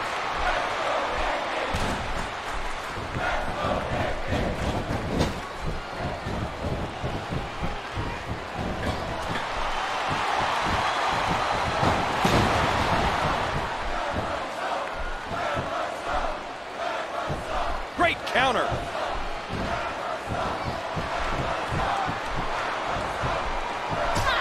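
Arena crowd noise from the WWE SmackDown vs Raw 2010 video game, a dense sustained roar of cheering with loud thumps and slams from the ring punctuating it throughout.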